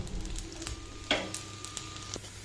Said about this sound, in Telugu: చూడండి, వేగుతున్నాయి కదండి.